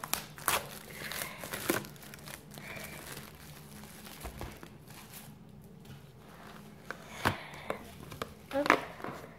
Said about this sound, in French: Je vais déballer le display